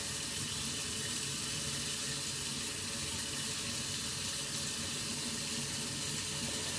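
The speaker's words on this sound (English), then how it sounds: "I'm going to get hot water" Hot water runs steadily from a kitchen tap onto a washcloth at a sink, a continuous broadband rush at moderate level with no talking.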